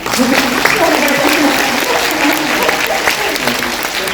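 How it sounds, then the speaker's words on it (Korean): A festival audience at a film Q&A screening bursts into sustained applause, dense clapping from a crowd filling the room for several seconds. "박수 한번 부탁드립니다."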